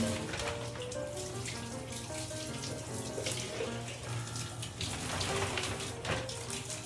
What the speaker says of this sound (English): And rinse it off again.